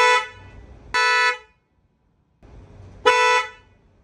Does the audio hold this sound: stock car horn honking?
yes